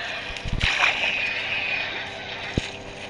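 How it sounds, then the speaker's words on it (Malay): A Minecraft character jumps into a river, giving a short burst of splashing and water sloshing, followed by gurgling movement and a brief dull thump near the end, heard close with no talking. "Apa kata kita mandi sungai sambung. Kita terjun."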